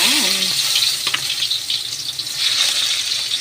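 Garlic and onion frying in very hot cooking oil for a home-cooked dish, a steady loud hiss and crackle filling the clip, with a short kitchen clatter near the start.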